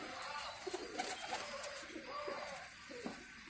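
A homing pigeon coos softly in short, low murmuring phrases outdoors, faint and fairly close, with light rustling and ambient noise around it.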